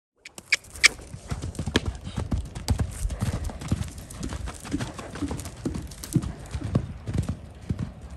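Hooves of a gaited horse clop on the ground in a steady, close rhythm, shifting between pacing and trotting, with a person talking faintly in the background.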